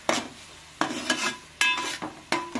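Raw tomato, onion, green chilli, turmeric, salt and oil are stirred in a pan, with four distinct scraping strokes, each one a clatter of the spoon against the pan over a soft sizzle, and no talking.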